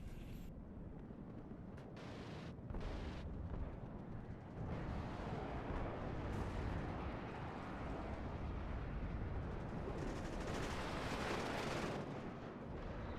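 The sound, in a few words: mortar fire in the video game WARNO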